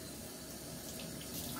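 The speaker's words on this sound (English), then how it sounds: "Now I'm going to add water to the palms of my hands." Water runs steadily from a bathroom tap into cupped palms during a skincare routine, a continuous close hiss and splash with no talking.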